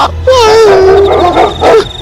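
A dog lets out a loud, close drawn-out howl that slides downward, then gives a short yelping bark at the end.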